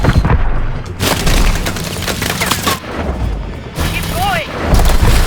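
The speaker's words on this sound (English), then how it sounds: "Incoming! Dive! More missiles!" Missile explosions in Call of Duty: Advanced Warfare, a string of heavy booms and blasts with gunfire-like cracks over roughly five seconds, loud and close, with shouted voices mixed among the impacts.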